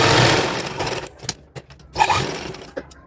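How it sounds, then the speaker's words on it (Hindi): A sewing machine runs a line of stitching down the center of elastic on a small girl's palazzo pants, a loud steady whirr that stops, followed by a few scattered clicks and fabric handling. "अब हम यहाँ पर एक सेंटर पे भी सिलाई लगा देंगे"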